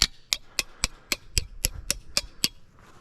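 A square-faced mason hammer strikes standing seam metal roofing in about ten sharp, evenly spaced blows, each a loud, ringing metallic clang, close by with no talk.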